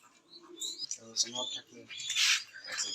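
Pet doves kept in a home aviary alongside budgerigars, soft low cooing mixed with bright, busy chirps from nearby birds, fairly close and continuous over a few seconds.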